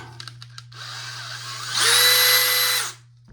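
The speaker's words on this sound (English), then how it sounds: "Gotta tighten that back on the screwdriver." An electric screwdriver tightens a screw on a proton pack. A few light clicks come first, then a rising motor whir that holds at a loud whine for about a second before winding down over a low background hum.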